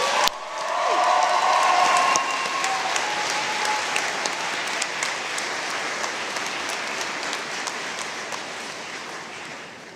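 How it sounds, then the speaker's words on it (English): Audience applause fills a hall at a university fall convocation ceremony, a sustained, dense clapping that swells early and then slowly thins out. "reciprocate by applauding your family, friends, and faculty and staff and those who have helped you reach your goal."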